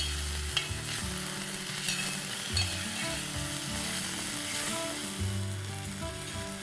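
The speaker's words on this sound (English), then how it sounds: "fry this till the tomatoes are cooked to soft and mushy texture" Finely chopped tomatoes frying in oil for a mutton sukka masala, a steady close sizzle with occasional stirring scrapes and no talking.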